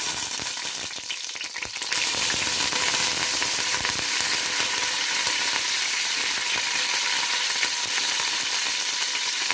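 Dried red chilies and curry leaves tempered in hot oil for radish sambar, a loud, steady crackling sizzle that flares up sharply after a moment and keeps spitting close and unbroken.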